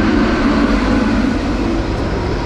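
A train passes close by with a loud, continuous rumbling roar and a steady low hum that holds at the same volume throughout, with no voices.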